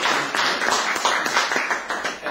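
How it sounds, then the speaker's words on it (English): Clapping from a gathering at a British pilgrims' association health and safety meeting, a steady patter of close hand claps with distinct individual strikes, loud and without voices. "I'd like to give a big round of applause to Lord Ahmed, please."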